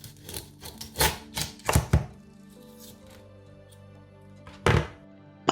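A knife cuts through a boiled salted egg on a board, giving a few sharp, close thunks and taps separated by quiet pauses, with a final knock at the end.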